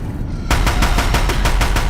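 Deathbringer machines in Horizon Zero Dawn unleash rapid machine-gun fire at a bridge, a loud, rhythmic stream of heavy shots starting abruptly after a brief quiet moment.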